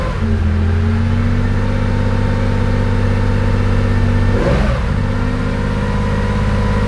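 A Porsche 911 2.8 RSR engine idles with a steady, loud, close drone and is blipped once on the throttle, giving a brief rise in revs before it settles back to idle, with no voices.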